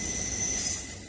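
Train wheel flanges squeal on the rails in suburban Atlanta, a sustained high metallic whine that grows louder over a steady rumble, with no talking.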